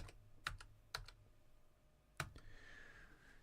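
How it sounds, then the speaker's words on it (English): Someone types on a computer keyboard: a handful of crisp, sparse keystroke clicks in small clusters, faint and close, with a quiet room hum between them. "I think I can type this in."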